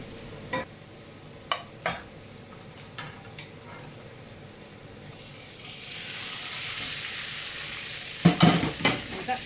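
Sardines fry in a shallow pan with little oil, a steady soft sizzle rising midway, punctuated by sharp clicks and scrapes of a utensil turning the fish.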